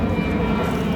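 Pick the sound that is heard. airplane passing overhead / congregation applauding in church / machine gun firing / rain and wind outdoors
airplane passing overhead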